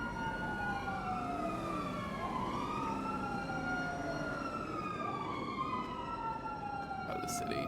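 Several wailing emergency sirens from GTA V on a NoPixel roleplay server sweep up and down together, overlapping steadily under a low engine rumble and sounding fairly distant.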